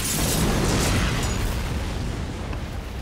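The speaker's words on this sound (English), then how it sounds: "That was a really weird explosion." A big staged explosion in a skateboarding film roars as a dense, sustained broadband rumble, loud and filling the whole span with no talk over it.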